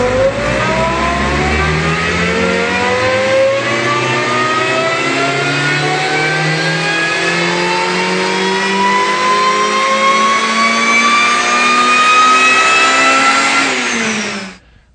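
Supercharged Honda Civic Si engine running a dyno pull, one long steady climb in revs that rises in pitch for about fourteen seconds, loud and close, then cuts off sharply at the end.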